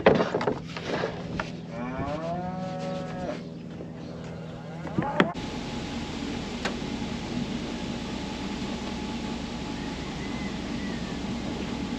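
Steers bawl in a series of loud, drawn-out moos close by during the first five seconds, then a steady outdoor rumble and hiss carries on with no more calls.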